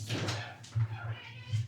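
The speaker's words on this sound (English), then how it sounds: "You could probably hear our cat in the background. I think he wants in." A house cat meows to be let in, several faint, drawn-out meows in the background behind low hum and quiet indoor noise, with speech nearby.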